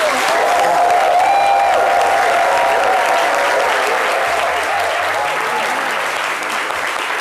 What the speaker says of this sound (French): Les applaudissements sont bien trop faibles.